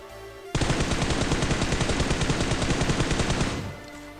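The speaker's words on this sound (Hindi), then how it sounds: "शॉट ले रहा हूँ अभी" Sustained automatic gunfire from a player's weapon in PUBG Mobile, a loud rapid burst of shots lasting about three seconds before cutting off, with no talk over it.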